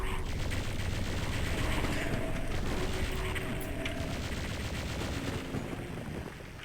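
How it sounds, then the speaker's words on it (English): Rapid mechanical rattle of the chain gun in Doom 64, a continuous fast stream of shots with clicking, steady and fairly close throughout. "All I have is my chain gun."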